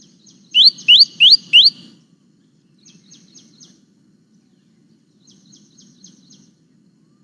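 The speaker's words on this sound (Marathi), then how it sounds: "हा एक शिंपी नावाचा पक्षी टेलर बर्ड." A common tailorbird's call played from a recording: four loud, quick, rising chirps in a row, then two fainter bursts of rapid chirping later on, over a low, quiet background murmur.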